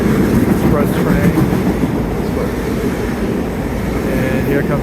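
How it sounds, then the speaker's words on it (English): A Long Island Rail Road train rushes past the platform at Woodside station, a loud continuous roar and rumble of wheels on track that holds steady throughout, with a faint voice nearby. "And here comes our train."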